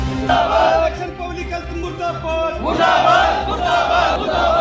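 A crowd of workers protesting their treatment by officials chants a slogan in unison, loud and close, rising and falling in rhythmic waves with a steady low hum running underneath.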